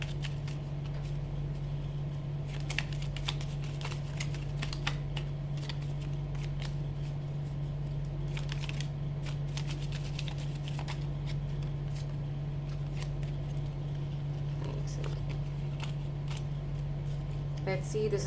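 Tarot cards being shuffled by hand, a run of soft riffling flicks and taps over a steady low electrical hum, with faint voices in the background.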